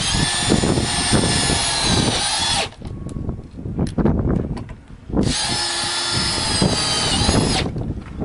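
A power drill drives screws into metal gate inserts in two loud, sustained bursts of high whirring, separated by a pause filled with clicks and handling noise, close to the listener with no talk.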